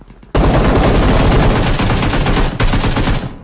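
Loud automatic gunfire in a video game team deathmatch, a dense continuous burst of rapid shots lasting about three seconds with a brief break near the end, close and dominant with no voices.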